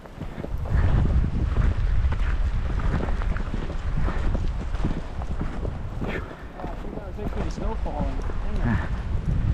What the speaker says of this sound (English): for once the wind is at our back and it is accompanied by a fat snow squall